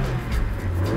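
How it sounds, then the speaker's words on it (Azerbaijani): Car engine idling just after being started, with a dual-fuel gas and petrol setup, a steady low rumble heard close with slight surges, alone without talk. "Maşını indi xotladıq, görək vəziyyət necədir."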